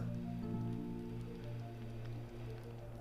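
Steady watery ambience from the video game Bonfire Peaks, a soft continuous wash of rain-like patter over a low drone and sustained tones, even and unbroken throughout.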